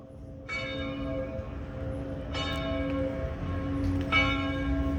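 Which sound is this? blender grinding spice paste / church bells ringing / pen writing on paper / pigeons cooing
church bells ringing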